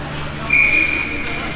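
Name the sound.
referee's whistle at an ice hockey game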